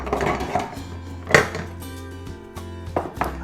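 Glass jars of homemade tomato sauce being lidded, with close clinks and clatters of metal lids against glass, a sharp knock midway and a few lighter taps, no talking.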